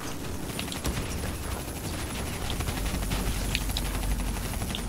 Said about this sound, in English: I'm just throwing all the grenades that I have.